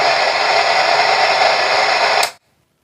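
Loud, steady broadband hiss from an FM radio tuned to 101.3 with no station, filling the clip alone until it cuts off abruptly near the end, leaving silence.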